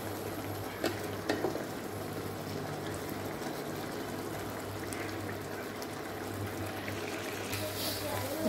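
Prawn and potato curry with onion stalks sizzling in a pan while being stirred, a continuous soft frying hiss with occasional scraping clicks of the spoon.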